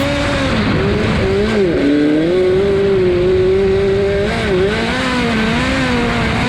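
A race car on a track engine-loud throughout, its revs dipping and climbing as it brakes and enters a corner, a steady close-up roar with shifting pitch and no talking.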